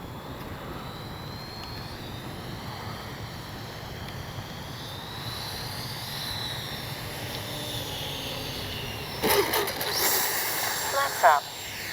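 An Arrows 64mm Marlin RC jet with flaps down makes a faint, distant, steady whine over heavy wind noise during touch-and-go practice, with louder gusts near the end.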